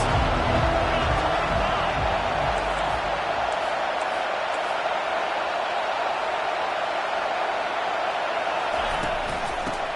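Stadium crowd noise in an NCAA college football video game, a broad steady roar rising behind the defense on a big third down, continuous and loud throughout.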